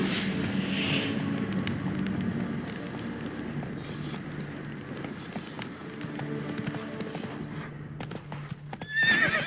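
Roach, a horse in The Witcher 3, trots with steady clip-clop hoofbeats and whinnies over an outdoor game soundscape, hooves close and continuous throughout.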